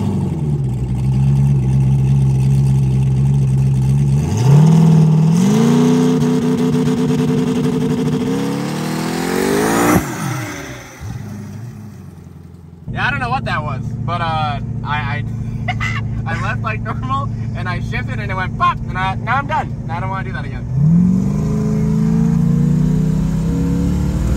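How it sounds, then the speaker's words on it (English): An LSX-swapped big turbo Mustang drag car with a Turbo 400 transmission and trans brake revs loud and close, its engine note climbing, dropping out, then settling into a steady high-power drone with sharp crackling bursts before revving up again. "which means that you can launch this car"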